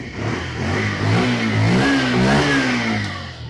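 A Bajaj Pulsar 125 BS6 fuel-injected motorcycle engine revving up and settling, its pitch rising and falling over a few seconds, loud and close with no talk.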